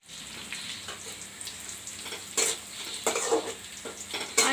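Cut onion sizzles steadily in a hot pan with panch phoron, close and fairly soft, as a utensil stirs through it in several short scraping bursts.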